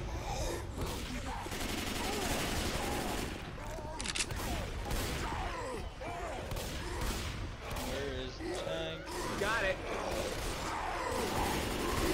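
In Left 4 Dead 2, dense gunfire crackles through a zombie fight in repeated rapid volleys with louder bursts, continuous and close, while voices talk over the shooting.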